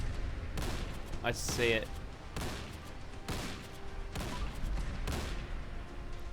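Shotgun blasts from a pump-action Remington 870 mod in Fallout 4, several sharp booming reports spaced a second or so apart, loud and close, with someone talking over them.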